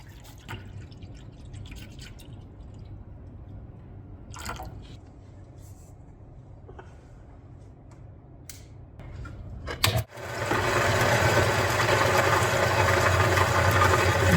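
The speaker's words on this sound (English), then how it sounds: "I'm going to grind this top down and see what's underneath it first." A black opal stone has its top ground down. Quiet scattered taps and scrapes come first, then the grinding starts and a loud, steady whirring hiss runs to the end.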